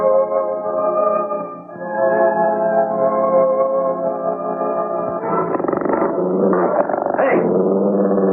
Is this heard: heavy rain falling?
no